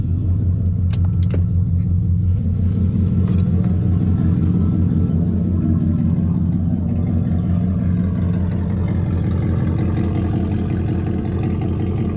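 A 2003 Chevrolet Silverado with a 6.0-liter V8, nearly straight-piped with only catalytic converters, idles steadily after a throttle body and TPS repair, giving a loud, even low rumble with no talking.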